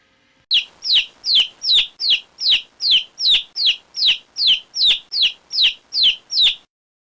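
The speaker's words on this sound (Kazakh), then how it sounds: "балапан" Chicks cheep in a steady, evenly spaced series of about fourteen bright, high peeps, close and clear with nothing else around them.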